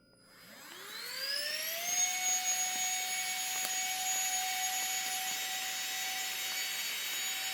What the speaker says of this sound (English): It is loud, but it does not have that whiny, vacuum sound that some vacuums have.